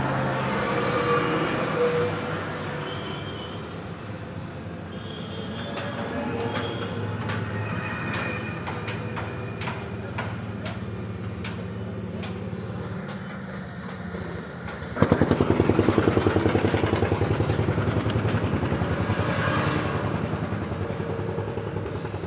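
A Tata 912 truck engine runs at idle: a continuous rough mechanical drone with a rapid clicking rhythm that grows louder and heavier partway through, with no speech.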